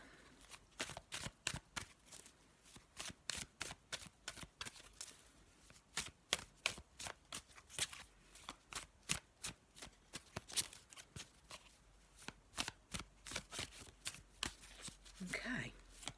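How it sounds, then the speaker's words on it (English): A black and white Faulkner tarot deck gets shuffled by hand, with quiet, close, irregular bursts of riffling and card slaps in a steady rhythm, low in level and without talk. "have a little shuffle of the black and white Faulkner deck as usual"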